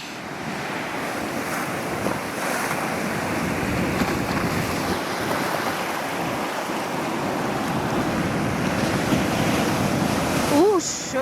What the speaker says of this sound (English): Just stopping a minute to watch the waves through these rocks here.